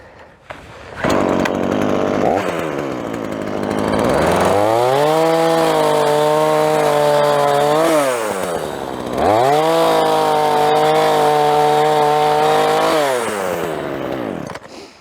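Scheppach PCS380 chainsaw cutting alder logs outdoors, loud and close, with two long sustained cuts at high revs separated by a brief drop to idle, plus rough revving at the start.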